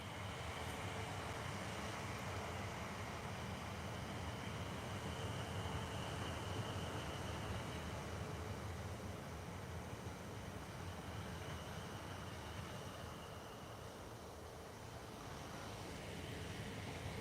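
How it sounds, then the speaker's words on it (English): A long, steady rumble of a train rolling past at a distance, continuous and fairly faint, with a broad low roar throughout. "That's a long train."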